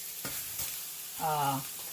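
Soft, steady sizzling of pork chops frying in a pan, with a few clinks of utensils and a brief tonal hum partway through.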